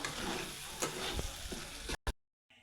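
Dried lote fish curry with oil and fresh coriander leaves being stirred in a pan, a steady close sizzle with soft scraping strokes that stops abruptly near the end.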